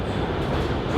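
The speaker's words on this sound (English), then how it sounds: "So that was the train I was just on" A New York City subway train rumbles steadily in a brief, dense roar of wheels and carriage noise with no talk.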